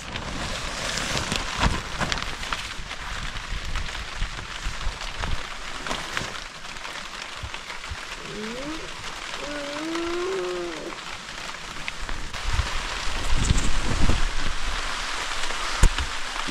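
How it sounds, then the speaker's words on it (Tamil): Heavy rain pours steadily in Munnar, Kerala, a dense broadband hiss that holds for the whole stretch, with a few louder splashes and gusts rising near the end and faint tonal sounds briefly in the middle. "பயங்கர மழை, ஒரு 4 மணிலேருந்து செம மழை"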